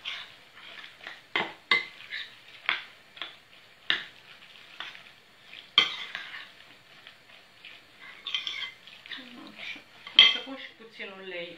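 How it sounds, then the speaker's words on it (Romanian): A utensil stirs a zucchini omelette mixture in a bowl with rapid, uneven clinks and scrapes against the sides, loud and close, with a few brief pauses and no talking. "și amestecăm așa bine"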